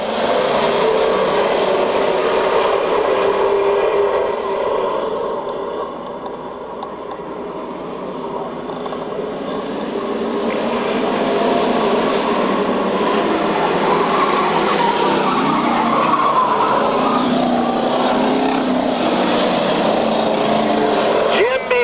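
Stock cars, including a Chevrolet Impala, roar around an oval track at a 1995 race, with a loud, continuous engine drone that dips briefly and swells again as the pack passes.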